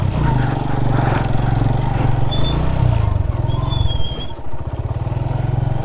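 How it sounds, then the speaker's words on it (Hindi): A parked motorcycle keeps running on a mountain trail in Basho Valley's cold desert, its engine a steady, close, low chugging rumble that eases slightly near the end. "अब इधर करेंगे खड़ी"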